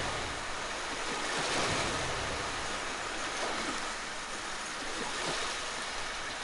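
Continuous rushing water from a river-like pathway in the video game Darksiders 2, a steady broad wash that stays loud and unbroken throughout.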